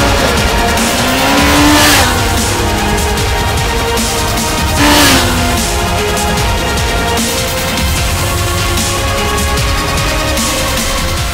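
Kawasaki Ninja ZX-14R motorcycle riding on the open road, a loud, steady engine roar with wind noise and two brief rising surges as it accelerates, close and continuous.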